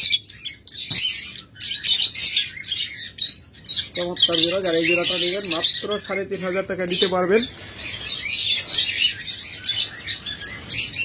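A pair of local wild-bred master lovebirds gives sharp chirps and squawks, with a run of rapid, wavering calls in the middle. Someone talks over the birds at close range.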